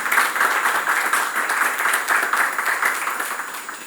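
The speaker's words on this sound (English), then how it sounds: "Let's again give them a big round of applause." A seminar audience at a school-based mentoring session claps for the speakers, a brisk, fairly loud burst of many hands that stays steady before tapering slightly.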